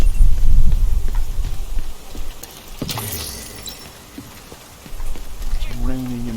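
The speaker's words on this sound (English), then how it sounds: "It's raining in my world." Steady rain falling in the video game The Division 2 fills the clip as a continuous patter, heaviest at the start and easing later, with a sharp splash or impact midway and a voice briefly at the end.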